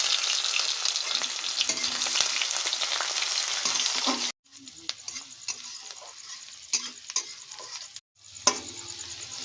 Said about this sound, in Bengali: পেঁয়াজ কাঁচা লঙ্কা এরকমভাবে ভাজা ভাজা হয়ে গেলে